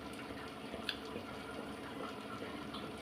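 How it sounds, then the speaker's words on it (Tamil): Used frying oil is poured from a pan into a separate bowl in a home kitchen, making a faint, continuous liquid trickle with a small splash near the start. "இப்போ இந்த எண்ணெயை தனியாக ஒரு கிண்ணத்தில் ஊற்றிக்கலாம்"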